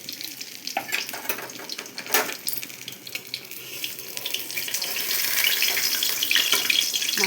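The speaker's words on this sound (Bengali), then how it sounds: "এই পাবদা মাছগুলো লাল লাল করে যে ভেজে নিয়েছি" Pabda fish frying in a pan for a mustard-paste curry, with steady sizzling and scraping stir noises that swell louder toward the end, no talking.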